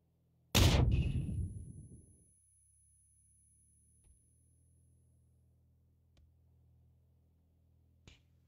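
A single loud grenade blast in a video game bursts up close and rumbles away over a couple of seconds, followed by a low steady hum and a few faint distant pops.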